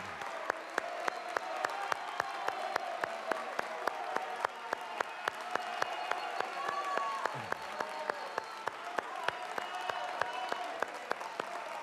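Applause from the audience at a presidential debate, a moderate, steady spread of crowd clapping broken by a regular series of sharp clicks, with faint voices underneath.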